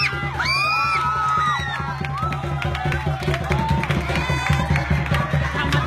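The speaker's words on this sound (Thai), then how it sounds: "ขอเสียงปรบมือต้อนรับ" A crowd welcomes new social work students with loud cheering, whoops and shouting, and some clapping can be made out in the noisy mix.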